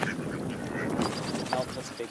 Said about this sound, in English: Nope, that's a big duck.